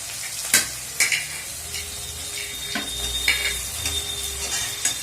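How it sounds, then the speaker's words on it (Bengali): Spice paste with tomato fries steadily in a pan for a traditional duck curry, a constant close sizzle broken by sharp stirring scrapes and clinks about once a second, with no talking. "এবার আমি টমেটোটা দিয়ে দেবো"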